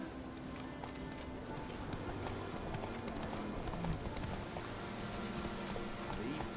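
Roach, a horse in the video game Witcher 3, gallops with steady clip-clop hoofbeats at a fast rhythm, loud and close over game ambience.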